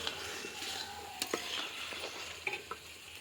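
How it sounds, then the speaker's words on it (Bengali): Poultry chicken pieces sauté in a pan for a chicken and potato curry, frying with a steady sizzle while a utensil stirs and scrapes with a few sharp clinks near the end. "ভালো পোলট্রির মাংসটা ভালো করে কষে নিচ্ছি"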